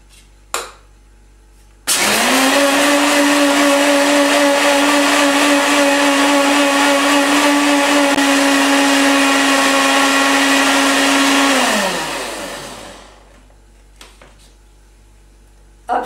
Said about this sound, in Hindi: और इसको हम चर्न करेंगे till the whole thing mixes and the sugar dissolves